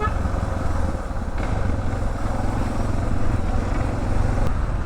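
Suzuki DR motorcycle cruising on a road, its engine a steady, loud drone mixed with wind noise, heard continuously from the rider's position.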